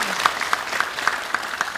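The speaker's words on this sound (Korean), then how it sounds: "우리 하나님께 감사의 박수를 드리겠습니다." A church congregation claps together in steady, rhythmic unison after a prayer of thanks, producing evenly spaced, moderately loud bursts of applause throughout.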